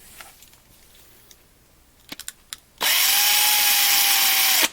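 A DeWalt 36-volt cordless drill drills out rivets on a NASCAR 1/64 scale diecast car, starting after a few light clicks and handling sounds and then running as a loud, steady whine for about two seconds before it stops.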